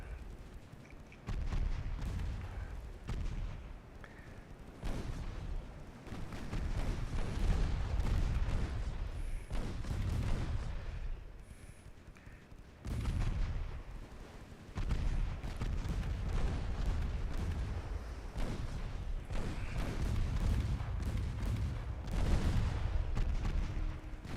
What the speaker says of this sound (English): Let's have you fire your main guns at the same target over and over again.